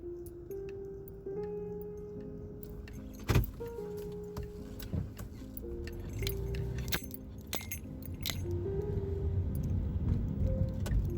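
Keys jangle and clink close by, followed by a car starting off on a drive to a metro station in Montreal, with a low engine hum and cabin rattles building toward the end.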